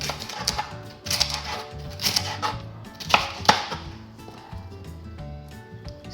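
A knife slices ingredients for Jamaican curry shrimp on a cutting board, making a quick series of sharp, close chops in uneven bursts, with no talking.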